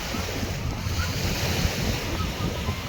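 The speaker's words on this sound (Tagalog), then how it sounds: "Kaya lang malakas yung alon ngayon." Strong waves roll and wash at Manila Bay, with a steady loud surf roar and heavy wind buffeting the microphone, close and continuous.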